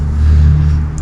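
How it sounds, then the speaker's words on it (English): A Kawasaki KX 250 two-stroke dirt bike engine, newly fitted with a working throttle position sensor and stock reed cage, drones loud and close at a steady high rev for about a second. "It sounds like it just revs out way better with the throttle position sensor working correctly"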